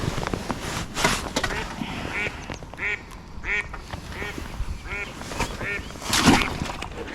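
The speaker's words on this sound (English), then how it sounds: "Ducks have arrived in the gentleman to the left" Ducks quack repeatedly at a fishing lake, a series of loud, nasal calls at a steady pace, close by, over outdoor background noise.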